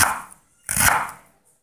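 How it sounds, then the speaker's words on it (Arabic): Knife slicing through vegetable leaves in a Korean kitchen, two crisp cutting strokes with a brief pause between, close and fairly loud with no talking. "وبعدين الورقه اقصها من فوق كده، وبعدين اقص بقى كله يطلع عندي"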